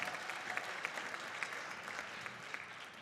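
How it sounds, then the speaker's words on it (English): Steady applause from an audience at a winter band showcase concert, dense and continuous with scattered louder claps, heard alone for about three seconds at moderate distance. "So let's give them a round of applause."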